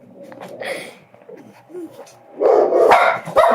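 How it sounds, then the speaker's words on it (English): A puppy yips and barks close by in a few sharp bursts, the loudest near the end, with a person talking to it between barks. "Hey, little puppy."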